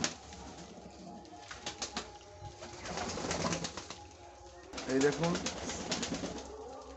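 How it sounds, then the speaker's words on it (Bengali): Pigeons being fed puffed rice coo and shuffle nearby, with bursts of wing flapping and pecking amid the flock, while someone talks over them. "টোটাল পায়রা চলে এসেছে"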